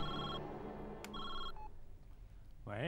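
A telephone rings in short repeated electronic trills, fairly quiet, with a brief voice rising at the end.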